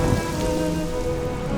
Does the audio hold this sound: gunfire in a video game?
no